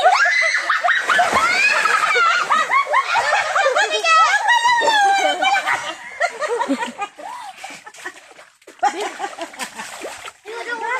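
Friends jumping into shallow water, with splashes amid excited shouting, laughter and screams; loud, close voices talk and shriek over the splashing throughout.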